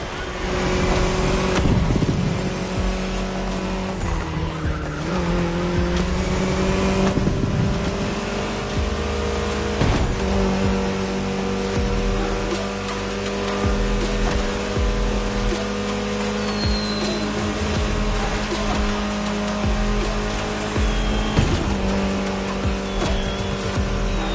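A Mini Cooper drives steadily in The Crew Motorfest, its engine holding a continuous loud drone with shifting pitch and a few sharp gear-change dips, plus occasional tire noise along the run.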